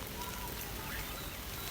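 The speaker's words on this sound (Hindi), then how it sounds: "ये पानी का जो ऊपर बूंदाबांदी की फॉर्म में गिरना और छोटी छोटी वेव्स बन रही हैं" Light autumn evening rain drizzles onto puddles on a village road, making a soft, steady patter and hiss with no pauses, faint and even throughout.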